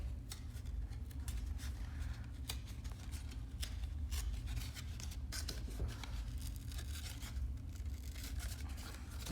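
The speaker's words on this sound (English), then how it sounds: "Okay, I am cutting it from here." Scissors snip through a paper sheet model along its seam in a quick run of faint, close cuts over a low background hum, with no talk.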